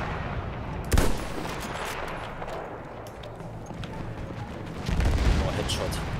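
Distant bombardment and gunfire rumble in the World War I shooter Battlefield 1, with a sharp blast near the start, steady crackling shots, and a heavier booming swell toward the end, while a voice talks over it.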